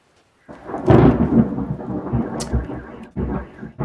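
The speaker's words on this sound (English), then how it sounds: "Wow, that was thunder." A loud, close thunderclap bursts out of silence and rolls on with rumbling, followed by a second crash after a brief dip.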